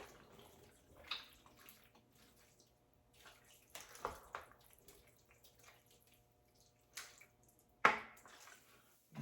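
A spoon stirs a pot of homemade chili in a slow cooker, making quiet, intermittent wet squelches and scraping swishes separated by short pauses.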